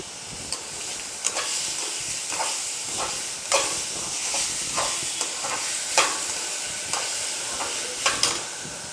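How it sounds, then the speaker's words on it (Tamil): Chopped tomatoes fry in a hot pan for a Salem-style tomato kuruma, a steady loud sizzle and hiss running throughout, with occasional sharper taps and scrapes of stirring close by and no talking. "நான் இப்போ ஒரு 6 தக்காளி அளவுக்கு போடுறேன்."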